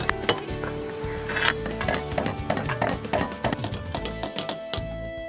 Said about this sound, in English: you're simply just nailing this guy in